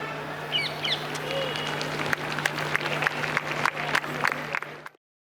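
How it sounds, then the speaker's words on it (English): Audience at a school athletics meet cheering runners on, a broad crowd roar with scattered whistles and shouts, moderately distant, ending abruptly in silence. "Audience, keep cheering them on."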